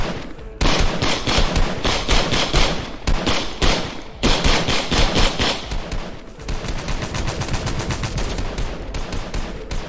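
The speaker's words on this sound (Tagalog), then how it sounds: "dinig na dinig nila ang walang tigil na putukan ng baril" Sustained gunfire rattles in loud, rapid bursts, with machine-gun volleys of sharp cracks separated by brief gaps and a continuous stuttering barrage in the second half.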